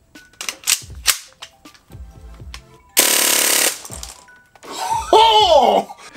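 Airsoft gun shooting 0.25 g BBs through a chronograph, heard as a sharp loud burst of shots lasting under a second, with scattered clicks and handling noise, then a voice reacting with an exclamation.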